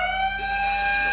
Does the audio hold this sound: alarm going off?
yes